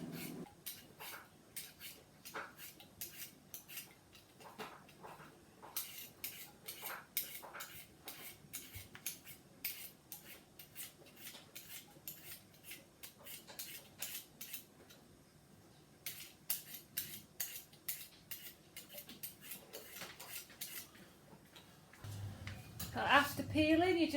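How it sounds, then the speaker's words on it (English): Potatoes being peeled and chopped by hand, producing quiet irregular scraping and short tapping cuts in clusters, with a louder knock and clatter near the end. "So the first thing we need to do is peel and chop the potatoes"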